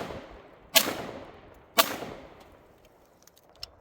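A Canik TP9SF pistol fires two sharp, loud shots about a second apart. Each report rings out with a decaying echo, and faint clicks follow afterwards.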